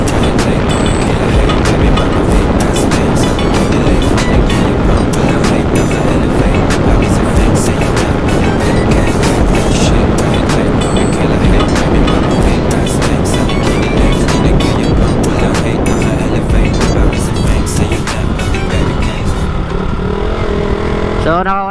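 A loud, continuous roar of a Yamaha Sniper 155 motorcycle engine running hard at top speed after servicing, with heavy wind noise and a steady drone throughout, easing slightly at the very end.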